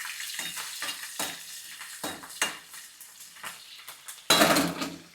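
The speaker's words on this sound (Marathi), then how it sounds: "असा फोडणी बसली कढीपत्त्याची की लगेचच आपल्याला मिरची टाकून घ्यायची" Curry leaves and chili crackle in hot oil in a pan as a tempering for tomato chutney, with intermittent stirring scrapes and utensil clinks, then a loud burst of sizzling near the end.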